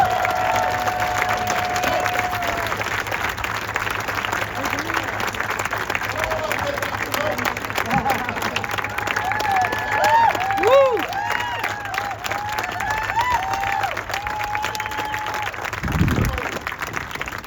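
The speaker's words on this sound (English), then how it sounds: "Give him a great big round of applause." An audience applauds and cheers at a gathering, steady clapping with scattered whoops and shouts rising midway, a voice also heard.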